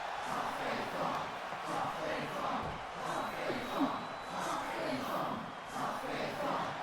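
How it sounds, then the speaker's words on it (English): Crowd noise from a wrestling video game, a steady roar of massed voices with rhythmic chant-like swells throughout, loud and continuous with no break. "taking a moment to take in the chants from the crowd."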